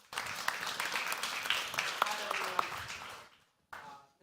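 Audience applause at a fintech conference as a panel speaker takes the floor, a dense steady wash of clapping lasting about three seconds before fading out, with a brief burst of clapping returning near the end.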